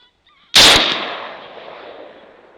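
A single loud rifle shot at a coyote, fired with an Accufire TR1, cracks sharply outdoors and rolls away in a long fading echo, with no voices.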